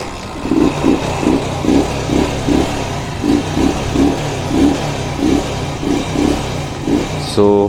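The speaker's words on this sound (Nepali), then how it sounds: "सो फाइनली बाइक स्टार्ट भइसक्यो।" A Chinese motorcycle engine idles after starting, pulsing in a steady rhythm of roughly a dozen regular chugs that swell and fade, fairly close and loud, ending with a sharper rev burst.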